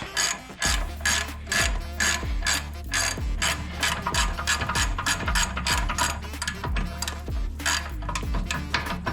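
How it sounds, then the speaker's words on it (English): A 13/16 ratchet wrench spins off an upper control arm bolt on a 1999-2007 Chevrolet Silverado, its pawl clicking rapidly and loudly in a steady, continuous run of sharp ratcheting strokes. "Got a 13/16 ratchet wrench, and we can just go ahead and run this one off."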